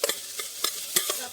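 Chips mixture being stir-fried in a pan at home, a spatula scraping and tossing in quick uneven strokes, five or six sharp clatters over a soft continuous sizzle, close and moderately loud, no voices.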